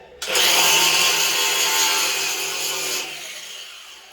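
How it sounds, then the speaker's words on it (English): A power grinder grinds a part inside a home-built personal submarine, a loud, close, steady high whine that starts abruptly, holds for a few seconds, then winds down and fades in the enclosed space. "I gotta grind that"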